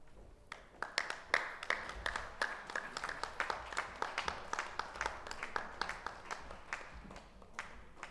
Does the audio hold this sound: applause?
yes